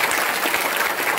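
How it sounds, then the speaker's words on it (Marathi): A crowd at a kirtan claps hard for a speaker in a brief, continuous burst of dense, loud applause, with no talking over it. "भाऊसाठी जोरदार टाळी वाजवून"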